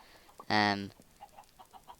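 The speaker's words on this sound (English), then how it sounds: "We have a load of chickens here basically." Minecraft chickens gathered on a rooftop farm with water flowing into the middle give one loud, close cluck followed by several fainter clucks, and no talking is heard.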